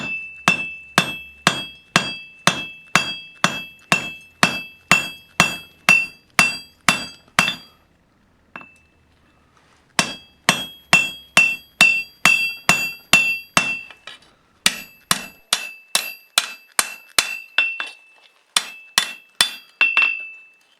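Hot metal is forged on an anvil horn with a hammer: rapid rhythmic ringing strikes in steady runs, each blow clanging sharply with bright metallic overtones, separated by short pauses, close and loud with no talk.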